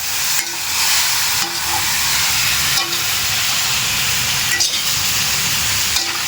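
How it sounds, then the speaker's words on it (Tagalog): Boiled catfish stew is stirred in a pot with a steady simmering hiss, and a few soft clinks from the utensil come at irregular intervals, with no talking. "Kaya haluin natin yan"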